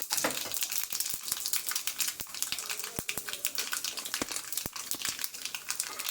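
Mustard seeds, cumin and curry leaves crackle and pop sharply in hot oil for a rasam tempering, a steady sizzle punctuated by scattered loud snaps, close by with no talking.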